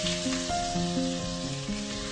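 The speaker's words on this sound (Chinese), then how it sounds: "开火，放些油入锅， 先放入已切碎的大蒜，" Chopped garlic sizzling in hot oil in a wok, a loud continuous crackling hiss with faint tonal ringing over it, no voices.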